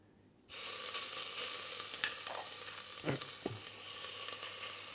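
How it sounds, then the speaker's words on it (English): Spice paste for Vietnamese bo kho beef stew hits hot oil over medium heat and bursts into a loud, steady sizzle that continues throughout, with a couple of soft stirring scrapes. "A little bit of oil. Enough to actually fry the paste well."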